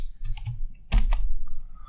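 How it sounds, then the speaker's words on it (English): Quick clicks of typing on a computer keyboard while entering a name in measurement software, a short close burst of keystrokes. "I can choose it directly by typing."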